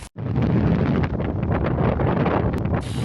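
Strong high-mountain wind roaring and buffeting continuously, loud and close, with a brief gust-like burst near the end.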